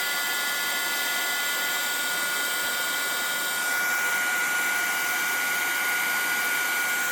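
A hair dryer blows steadily at close range, drying craft paint on an index card, a continuous loud whirring hiss that shifts slightly in pitch midway.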